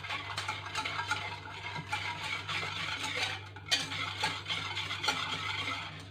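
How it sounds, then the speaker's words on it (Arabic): A spoon or whisk stirs a chocolate and cream cake mixture in a bowl, with steady repeated scraping and clinking against the sides over a low hum. "كنخلط هادشي مزيان"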